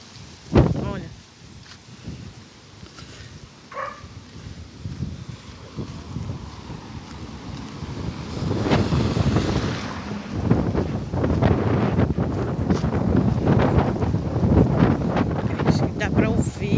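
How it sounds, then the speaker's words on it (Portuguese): Strong wind gusting on Avenida Tucuruvi near Ilha Náutica in Canes, Bahia, a coastal spot, roaring into the microphone as broadband rumble that builds from moderate to loud and sustained, with an early thump and no clear talk. "tem muito vento."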